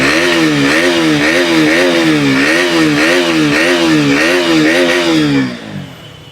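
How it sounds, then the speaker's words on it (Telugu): A 2019 KTM Duke 125 BS4 motorcycle idles steadily and loudly up close, its single-cylinder engine beating in an even pulsing rhythm for several seconds before cutting off abruptly near the end. "ఒకసారి స్టార్ట్ చేసి దీని ఇంజిన్ బీట్ ఒకసారి వినిపిస్తాను,"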